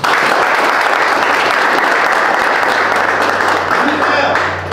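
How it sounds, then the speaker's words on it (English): Basketball team clapping together in a film or meeting room session, loud continuous dense applause from a group, close and sustained, fading slightly at the end. "Clap it up."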